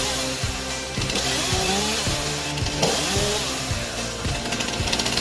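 A standard chainsaw mounted on a stabilizing rig with an automatic throttle saws through wood, its engine whining and dipping in pitch as the chain bites, loud and continuous with repeated load changes.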